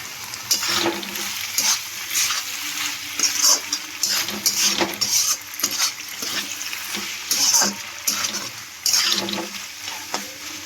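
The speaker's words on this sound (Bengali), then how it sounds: "এবার ভালো করে একসঙ্গে মিশিয়ে নেব।" Pasta being stirred in a hot pan with salt and turmeric, with a continuous sizzle and repeated scraping and clinking of a utensil against the pan over about ten seconds.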